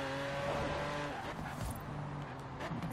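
Lamborghini Aventador engine in the racing game Forza Horizon 4, revving hard toward the red line with a loud, continuous roar and no talking over it.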